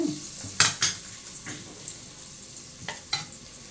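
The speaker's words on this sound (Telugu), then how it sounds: "ఇట్లా బాగా ఉల్లిపాయలు ఎర్రగా వేగినాక కలుపుకొని ఒకసారి బాగా ఎర్రగా వేగాలండి" Onions browning in a pan for a mutton curry with tender tamarind leaves give a steady sizzle and crackle, punctuated by sharp clinks and scrapes of a spoon stirring against the metal.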